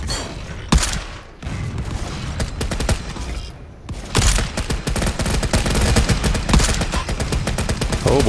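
Turret and mortar gunfire in the video game Volcanoids, with dense, continuous rapid bursts and heavy booming hits that carry on loud and close, broken only by a brief lull before the barrage resumes.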